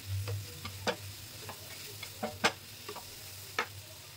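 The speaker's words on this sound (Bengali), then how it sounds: "পেঁয়াজটাকে খুব সুন্দর করে গোল্ডেন ফ্রাই করতে হবে" Onions frying toward golden in a generous pour of mustard oil for a prawn bhuna curry, with a low steady sizzle broken by sporadic sharp clinks of stirring; no talking.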